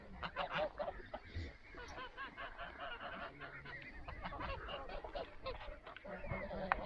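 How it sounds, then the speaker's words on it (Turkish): A flock of geese honks continuously, many overlapping nasal calls close by, forming a dense, noisy chorus. "Kazları göster. Bunlar mas kazları."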